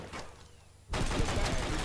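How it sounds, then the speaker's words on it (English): Rapid-fire pistol shots ring out in Red Dead Redemption, a Western video game gang match. A few faint shots come first, then a sudden loud burst of continuous gunfire fills the rest. "this is where I start getting pwned all up in you with that rapid-fire pistol"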